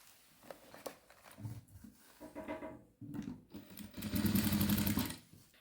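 Sewing machine stitching along a folded half-inch hem on fabric for Patiala pants, a steady mechanical whirr building to a loud continuous run near the end, preceded by short bursts and handling of cloth.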